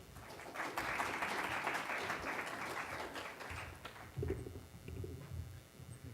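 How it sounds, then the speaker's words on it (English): Audience applause at a tech conference as a speaker walks up, a dense steady clapping that fills the room for several seconds and then thins toward the end. "Let's give him a warm round of applause as he comes up."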